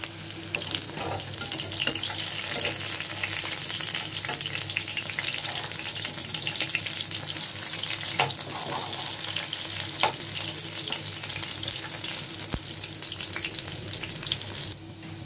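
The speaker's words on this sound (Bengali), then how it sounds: "কাঁচামরিচ দিয়ে লাড়া দিয়ে দিচ্ছি" Dried fish sizzles in a pan with green chillies, a steady dense frying hiss with irregular stirring scrapes and clinks up close throughout.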